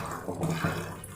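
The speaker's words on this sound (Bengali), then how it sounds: "এখানে আমি সিম আলু ধুয়ে নিচ্ছি" Beans and potatoes being washed in water, a brief splash and swirl of liquid at close range, moderately loud and without talk.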